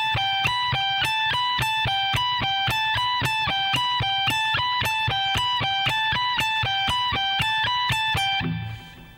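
Electric guitar speed-soloing lick played slowly and evenly, a steady stream of clean picked single notes in a repeating pattern at a constant tempo, close and alone, ending with a brief low thump.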